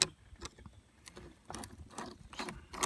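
A ratchet loosens a band clamp on a car's mass airflow sensor housing, giving close, irregular bursts of clicking with short pauses between turns.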